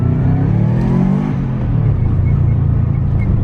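A turbocharged Subaru WRX engine revs hard through a first-gear pull, a loud, deep, continuous rumble whose pitch climbs, dips briefly and climbs again, heard close with no voices.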